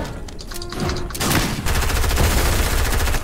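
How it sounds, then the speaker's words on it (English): Rapid gunfire in Fortnite Battle Royale, a dense, loud burst of shots cracking in quick succession for a few seconds, close and unbroken, with no talking over it. "Oh, I'm getting shot at."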